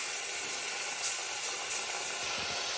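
Hog plum and tomato sauce sizzling in hot oil, a steady bright hiss and crackle that stays loud and continuous throughout, close up with no talk.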